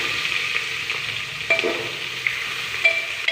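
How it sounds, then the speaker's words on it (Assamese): Onions fry in a pan with carrots for a biriyani, giving a steady close sizzle with a few soft stirring scrapes and small clinks. "আৰু এতিয়া মই ইয়াতে ফ্ৰাই কৰিম এয়া পিঁয়াজখিনি ৰঙচুৱা ভালকৈ মই ফ্ৰাই কৰিম।"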